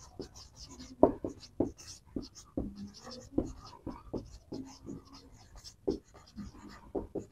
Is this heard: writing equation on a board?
yes